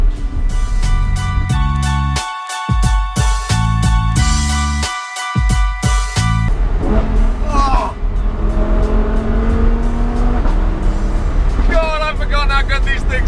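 Lamborghini Huracan Spyder sports car engine, loud and close, with sharp revving bursts and rhythmic exhaust pops early on, then a steady roar while people talk over it.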